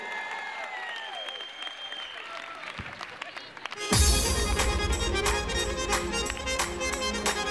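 A concert audience bursts into loud, sustained applause for a singer taking the stage at a live show, the clapping starting suddenly midway after quieter hall noise and continuing densely to the end.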